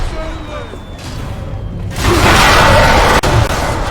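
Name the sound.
loud explosion in the video game Bioshock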